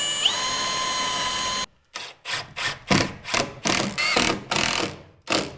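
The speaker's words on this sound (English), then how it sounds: "I'm gonna pre-drill these so this doesn't split." A power drill whines steadily, then cuts into a run of about nine short, loud bursts as it pre-drills wood while installing an exterior door, with brief pauses between each.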